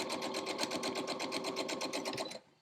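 A sewing machine stitches pieces of a quilt star block in a rapid, even run of mechanical clatter, close and steady, before stopping abruptly near the end; no voices.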